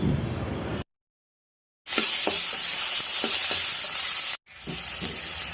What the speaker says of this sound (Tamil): உளுத்தம் பருப்பு, வெங்காயம் தக்காளி சேர்த்து வதக்கிக்கிறேன்